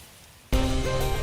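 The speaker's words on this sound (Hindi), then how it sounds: "अरे बाहर बारिश हो रही है।" Rain falling outside starts suddenly as a loud, dense wash of steady hiss and patter that stays even and close after a quiet opening.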